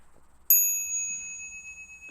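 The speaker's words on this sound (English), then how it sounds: "The bell sound" A single bell struck once at a Buddhist lecture, a bright clear ding that rings out and decays slowly over quiet room tone.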